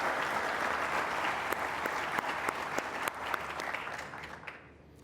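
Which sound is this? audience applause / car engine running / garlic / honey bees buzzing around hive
audience applause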